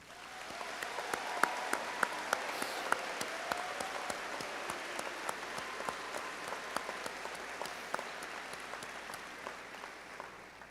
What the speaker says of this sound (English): please join me in a round of applause for these students